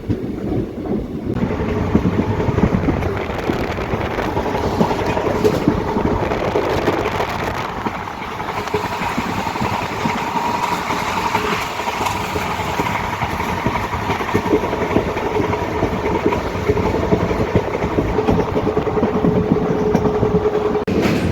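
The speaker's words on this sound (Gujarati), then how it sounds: "ટ્રેન આપણી ઉપડી છે મિત્રો" A passenger train on the Keshod–Bhavnagar line pulls out of Lusada station, a steady rumble and clatter of wheels on rails heard from on board, loud and continuous for the whole stretch.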